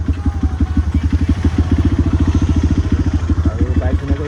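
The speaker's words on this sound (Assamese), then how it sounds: "আৰু বাইক ধুনীয়াকৈ ইয়াতে পাৰ্কিং কৰি দিওঁ" A motorcycle idles close by at night as it is being parked, its engine thumping in a steady, rapid beat that carries on without pause.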